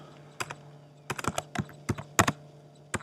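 Short bursts of typing on a computer keyboard while filling in a club visit report, a few quick clustered keystrokes with brief gaps, close and crisp over a low hum, with no talking.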